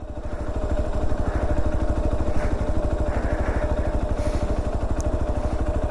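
A Hero Xpulse 200 motorcycle engine runs near Umling La, with a fast, even single-cylinder thump that holds steady and loud the whole time. It sounds close and plays alone, with no talking.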